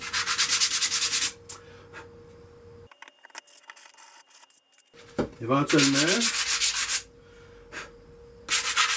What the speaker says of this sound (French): tout ce que je fais, c'est enlever ce qui dépasse pour pouvoir coller et assembler mes morceaux